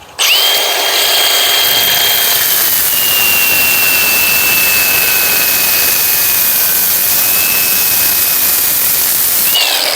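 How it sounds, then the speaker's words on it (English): An angle grinder cuts steel brackets off a Ford F600 truck frame, a loud, steady high whine of disc on metal that runs continuously, close and alone. "We'll go back to the trusty grinder here."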